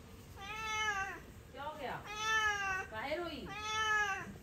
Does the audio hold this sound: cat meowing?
yes